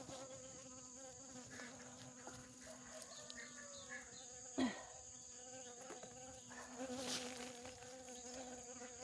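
A bee buzzes close by in a garden with a steady, wavering drone that swells and fades as it moves around, in a quiet outdoor setting.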